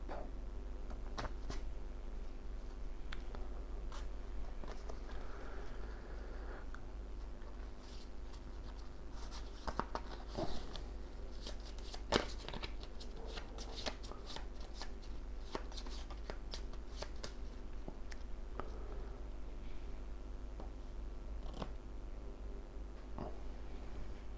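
Cards are shuffled by hand during a tabletop game of Way of the Samurai, Afro Samurai boss bonus, a soft continuous riffling and tapping at close range under a low steady background hum.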